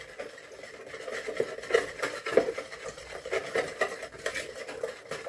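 Spice sauce ingredients with cumin and pink salt crystals are whisked together in a bowl: quick, uneven clinking and swishing strokes, close and fairly quiet, with no talk.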